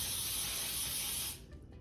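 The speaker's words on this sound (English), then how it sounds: "I'm going to spray some baking spray on the bottom." Baking spray hisses in one steady, loud, close burst into the bottom of a 12 by 9 inch cake pan, then cuts off abruptly, leaving faint rattling handling sounds.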